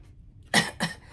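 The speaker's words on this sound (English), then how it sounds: "I cough." Two close coughs from one person, loud and near, in quick succession with quiet room tone between them.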